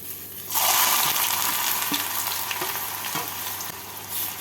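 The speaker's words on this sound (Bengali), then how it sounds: "এবার এর মধ্যে কুচনো পেঁয়াজগুলো দিয়ে দেব" Chopped onions hit melted sugar in a pan for mutton red curry, setting off a loud sudden sizzle that keeps frying steadily, with a few soft stirring knocks and no voice.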